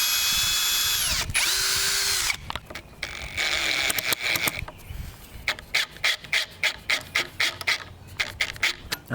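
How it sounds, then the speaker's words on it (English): A power drill with a 22mm bit bores an eyelet hole into a wooden board for a thornless blackberry trellis, starting with a loud sustained grinding whine, then breaking into rapid repeated rasping bursts close by. "So we'll see how that works to drill it in."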